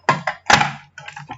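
Empty glass perfume bottles are set back into a small box, giving a few close clinks and knocks in uneven bursts, with one louder clatter in the middle.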